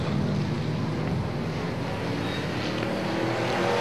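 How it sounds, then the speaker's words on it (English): A fast pack of Super Stock race cars circles a racetrack, their engines blending into a continuous, somewhat distant roar that holds steady throughout without any voices. "A very fast group of Super Stocks out on the racetrack right now."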